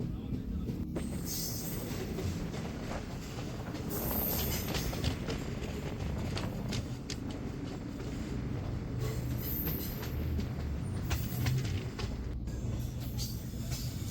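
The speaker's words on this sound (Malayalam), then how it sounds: "train Ramanathapuram railway സ്റ്റേഷനോട് അടുത്തുകൊണ്ടിരിക്കുകയാണ്" Steady rumble of a train rolling along the rails as it approaches Ramanathapuram railway station, with rattling carriages and occasional high metallic squeals, continuous throughout.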